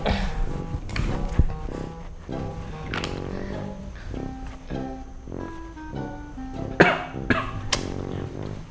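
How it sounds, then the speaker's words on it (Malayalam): A handful of sharp, close coughs burst out at uneven intervals over a steady tonal background. "ചുമ വരുമ്പോ അങ്ങ് ചുമച്ചോണം"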